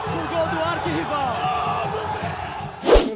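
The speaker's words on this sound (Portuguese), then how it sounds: "A torcida do Internacional vibra com o gol do arquirrival." Crowd of Internacional football fans roaring and shouting as rival Grêmio scores a goal, a dense sustained mass of voices with a sharp louder burst of cheering near the end.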